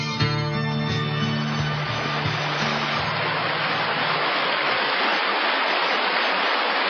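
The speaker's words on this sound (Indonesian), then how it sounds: "Air terjun Sigura-gura yang telah berkurang airnya." Steady broadband rush of the Sigura-gura waterfall on the Asahan river, its flow already reduced, roaring continuously without pause, while a low musical tone sounds beneath it in the opening seconds.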